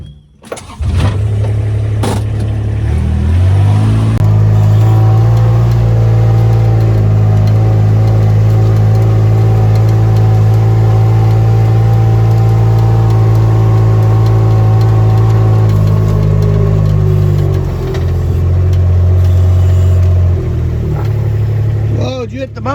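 Car engine heard on a farm track during blackberry picking: the engine starts, then runs at a steady mid-pitched drone for most of the stretch, close and loud, rising and falling slightly in pitch as it drives.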